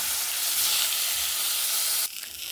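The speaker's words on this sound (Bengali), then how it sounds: "এবার এই কপিগুলো নুন জলে ডুবিয়ে রেখেছিলাম, ওখান থেকে ঝারিয়ে তুলে নিয়েছি। কপিগুলো ভেজে নেবো এবার।" Cauliflower florets, drained from salted water, frying in hot oil in a village kitchen, a loud steady sizzle and hiss that cuts off sharply near the end, leaving quieter background noise.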